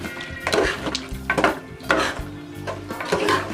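A spoon stirs coriander powder and garam masala into spicy Telangana-style mutton curry in a pressure cooker on a lit stove, with repeated scraping and clinking strokes in a steady rhythm and a faint sizzle underneath.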